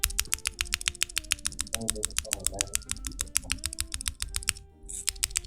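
Rapid, steady clacking of a mechanical keyboard being typed on, with a brief pause near the end, under low background voices.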